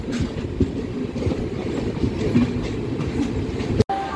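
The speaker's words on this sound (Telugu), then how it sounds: "మనకి మెయిన్ లైన్లో ట్రైన్ అయితే వెళ్తుంది చూసారా ఏపీ ఎక్స్ప్రెస్ ఆంధ్రప్రదేశ్ ఎక్స్ప్రెస్ అనమాట విశాఖపట్నం వెళ్ళేది" Andhra Pradesh Express train bound for Visakhapatnam passing on the main line near Vijayawada, a loud continuous rumble with rhythmic wheel clatter heard close by, without talk.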